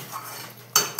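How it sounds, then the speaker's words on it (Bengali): A lid goes onto a cooking pot with a sharp metallic clank followed by a second lighter clink, close by, after a moment of quiet simmering. "এটা আবার চাপা দিয়ে দিই"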